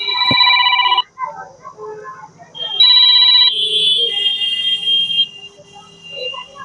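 A telephone rings with a bright electronic ringtone in repeated bursts, loud and close, with a few quiet spoken words in the gaps.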